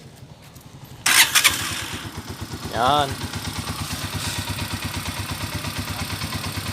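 A Honda TMX125 Alpha motorcycle engine, freshly overhauled and rebored, cranks and fires with a loud burst, revs briefly, then settles into a steady, close, chugging idle; a voice speaks once near the start.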